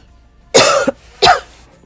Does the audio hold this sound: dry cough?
yes